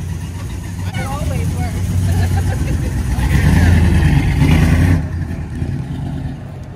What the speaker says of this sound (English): Tamara is now making an attempt at driving my Charger.